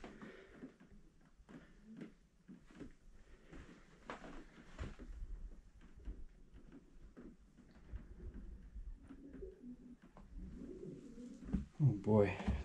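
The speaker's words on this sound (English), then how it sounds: "Oh boy, a lot of pigeons in there. You can hear them." Soft cooing from many pigeons in the bedroom of an abandoned house in Alberta murmurs through a noisy room, with low rumbles and scattered knocks, growing louder and busier near the end.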